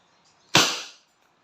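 A single sharp shot from a Wingun 708 airgun revolver fired single action, one loud close crack with a short fading tail, otherwise quiet.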